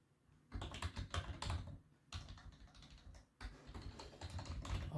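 Typing code on a computer keyboard: rapid close-up key clicks in three bursts separated by brief pauses, quiet and with no talk.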